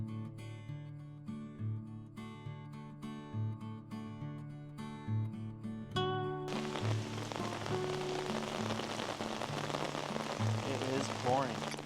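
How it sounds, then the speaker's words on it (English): Heavy rain pours down in Puerto de Sóller, Mallorca: a dense, steady hiss of rain on surfaces rises partway through and continues loud to the end, with music playing underneath before it begins. "It is pouring rain."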